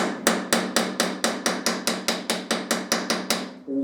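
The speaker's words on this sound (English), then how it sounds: "As you're hitting it, the hammer kind of stops dead." Sharp, evenly spaced hammer blows, about fourteen in under four seconds, ring out close and loud while driving in a motorcycle head stock bearing in a garage, then stop.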